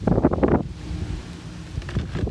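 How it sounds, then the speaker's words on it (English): Strong gusty wind buffets the microphone, a heavy low rumble that swells and subsides in bursts. "windy here, hopefully you can hear me still"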